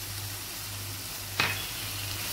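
Fenugreek leaves dropped into a keema pan, a steady close sizzle with a brief scrape or clink as they land, over a low constant hum, no voices.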